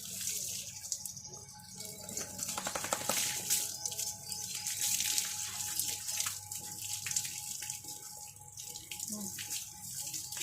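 Water splashes and pours steadily during a shampoo wash, like a tap running into a bath, with running water continuing throughout and a faint voice now and then in the background.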